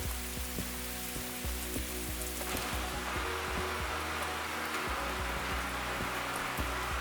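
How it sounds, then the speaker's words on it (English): Rain drumming on the roof of the railway museum in the video game Derail Valley, a steady dense patter with scattered louder drops and a low hum underneath, constant throughout. "That's the sound it makes in here when the rain hits the roof"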